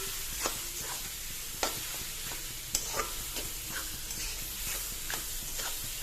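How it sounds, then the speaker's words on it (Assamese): Pickle mixture is stirred with repeated light scraping taps against the container, irregular and close, over a faint steady hiss, quiet and without speech. "মই ভালদৰে লৰাই দিম"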